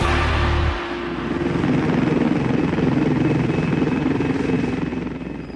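An air ambulance helicopter flies over the Yorkshire dales and moors, its rotor and engine giving a steady, loud drone for the whole clip, with no talking.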